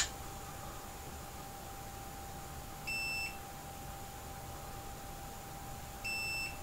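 Two short electronic beeps from a multimeter in continuity test mode while probing an iPhone 7 logic board, each about half a second long and three seconds apart, over a steady background hiss.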